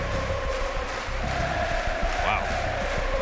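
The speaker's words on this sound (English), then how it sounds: "Can I get one of those Portugal chants, please?" Stadium crowd at a BLAST Premier esports grand final chanting together in a loud, continuous roar with a steady rhythmic swell, filling the arena throughout.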